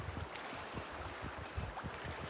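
A river in Finland flows with clear water over a visible bed, giving a steady, lively wash with soft low gurgles and splashes, continuous and fairly close, with no voices.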